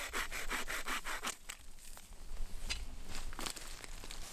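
A survival multitool hand saw, its blade mounted on an aluminum handle, cuts through wood in quick back-and-forth strokes, rasping rhythmically up close, then settles into slower, uneven strokes.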